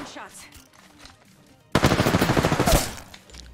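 A video game, Apex Legends, plays out with faint sounds for a moment before loud, rapid automatic gunfire erupts. The burst fires about a dozen quick shots, then stops abruptly.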